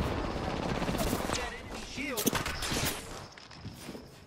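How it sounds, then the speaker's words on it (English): Gunfire in the video game Apex Legends, a few sharp shots cutting through busy battle noise and footstep-like clatter, with a loud crack near the middle and voices talking in the mix. "Opening fire."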